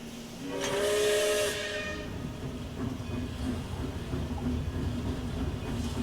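A train moves along in the Hokko Life video game, a steam whistle sounding loudly near the start over steady rolling rumble that continues alone.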